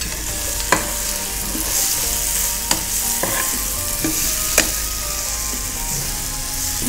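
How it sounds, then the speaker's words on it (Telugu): Spiced tomato masala, cooked down until soft, sizzles steadily in a pan as green koftas go in and a spoon scrapes and stirs, with sharp clinks of utensil against the pan at irregular intervals. "ఈ కోఫ్తాలు ఇందులో వేసేద్దాం."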